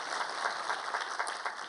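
A church congregation claps in a dense, continuous wash of applause, fairly soft and even throughout a short burst.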